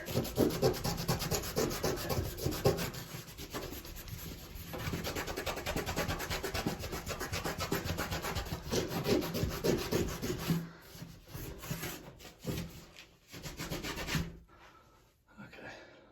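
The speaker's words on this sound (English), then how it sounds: "this might need a little bit extra scrubbing here." Shower grout scrubbed with a brush gives a fast, continuous rasping rub of bristles on tile, loud and close, slowing into scattered strokes before stopping near the end.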